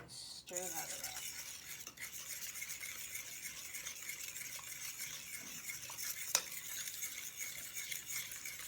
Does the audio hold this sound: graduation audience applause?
no